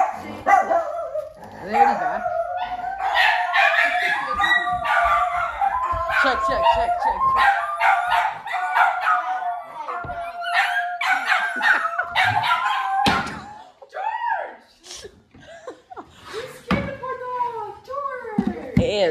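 A dog barks repeatedly inside a cave with yips and howl-like cries, mixed with a sustained high whistle-like tone; people talk briefly in the background.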